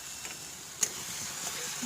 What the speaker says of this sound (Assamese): এতিয়া মই মছলাখিনি ভাজি ল'ম